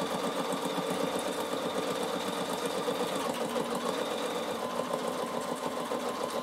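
Bernina sewing machine running steadily as its needle stitches down through wool, a continuous mechanical hum with a fast repetitive pulse, fairly close and even throughout.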